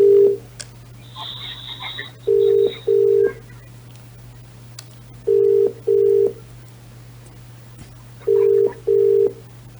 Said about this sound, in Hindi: फोन किया जा रहा है उन्हें